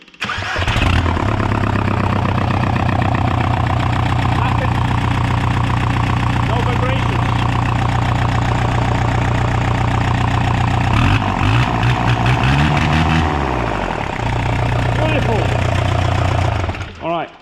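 A 1.9 TDI PD diesel engine, swapped into a third-generation Toyota MR2, cranks over and settles into a loud, steady, vibrating idle that runs almost the whole time, with a brief uneven patch near the end.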